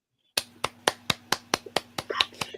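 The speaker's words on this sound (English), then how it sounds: "Golf clap." A soft golf clap, about ten even claps at a steady pace, each a crisp, close, moderately quiet smack that starts after a brief silence.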